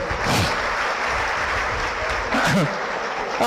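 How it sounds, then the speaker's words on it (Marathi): An audience at a comedy speech breaks into loud, continuous applause, a dense wash of clapping hands heard up close with a few voices briefly calling out over it. "जोरदार टाळ्या द्या तुमच्या"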